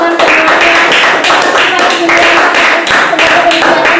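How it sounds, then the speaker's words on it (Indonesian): An audience at a coffee gathering in Batam claps together in a loud, close, rhythmic burst that holds steady without a pause. "Saya minta tepuk tangannya buat teman-teman semuanya."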